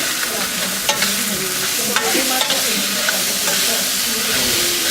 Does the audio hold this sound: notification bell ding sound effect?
no